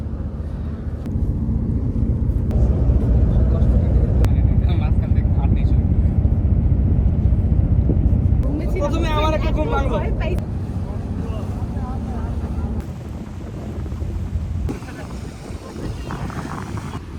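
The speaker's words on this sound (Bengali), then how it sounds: "আমাদের বোট এগিয়ে যাচ্ছে ওয়াচ টাওয়ারের দিকে।" A houseboat travels across the Tanguar Haor wetland, its steady engine rumble and strong wind buffeting running throughout while people talk nearby.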